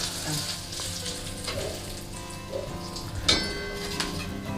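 Pomfret fish pieces frying in oil in a pan give a steady close sizzle throughout, with a brief sharp crackle and spatter near the end.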